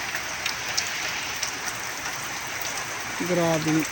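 Rain falls steadily on a hot day as a broad, even hiss, with a voice talking briefly near the end.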